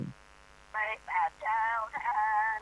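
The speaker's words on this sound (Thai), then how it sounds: "พอดีมีสายเข้ามาสายหนึ่ง" A telephone rings in during a Thai Buddhist radio talk program, giving four short tonal ringing bursts after a brief voice at the start, moderately loud over a quiet line.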